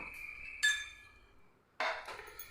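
A spoon clinks against a glass while muddling lemon pieces and mint leaves for a cool drink, giving two bright, close clinks with a short scraping rattle, separated by a quiet pause.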